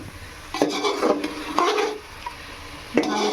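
Onions and mutton being stirred and sautéed in a pan for mutton biryani, with several loud scraping stirs of a utensil against the pan over a low background sizzle, no talking.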